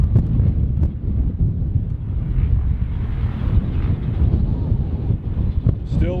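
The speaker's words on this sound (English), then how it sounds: "Still windy, guys." Gusty wind buffets the microphone at an outdoor vintage motocross track on race day, a continuous low rumbling roar with uneven surges and faint distant background activity.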